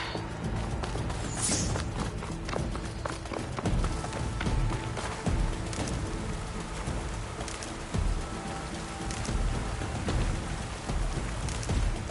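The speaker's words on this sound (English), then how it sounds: "Starting to rain." Steady rain falls in the video game Horizon Forbidden West, a constant soft hiss with scattered patters and faint footstep-like thuds, no voices over it.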